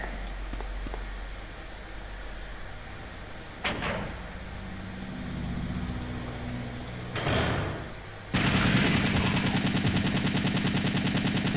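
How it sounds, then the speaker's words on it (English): Blind fire from a gun in the 1999 game Resident Evil 3, a dense rapid volley bursting in loudly near the end after quieter game ambience and a couple of thuds. "Also here I'm blind firing because I know there's hunters in this hallway now."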